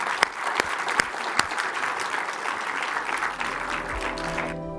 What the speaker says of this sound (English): Can I get you to give them another round of applause?